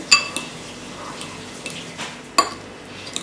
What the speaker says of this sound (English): Then you want to use your fork and mash it.